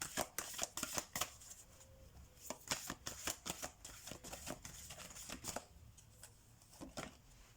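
Oracle cards shuffled by hand at a desk: quick riffling bursts and soft slaps of cards in an uneven rhythm, close and quiet with no speech.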